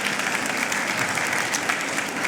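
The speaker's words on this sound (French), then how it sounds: "Je pense qu'on peut applaudir l'ensemble des panélistes" An audience at a health technology conference applauds the panelists, a steady, dense round of clapping filling the hall.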